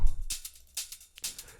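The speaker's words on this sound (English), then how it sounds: "Then we have this other hat loop" A short deep house loop of crisp hi-hat hits, a few bright ticks with sizzling tails spaced unevenly, plus a low thump at the start.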